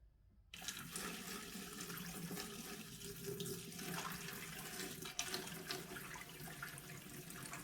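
Water pours into a 20-gallon corner vivarium with a built-in waterfall, a soft, continuous splashing trickle that starts after a short silence and continues steadily at low volume.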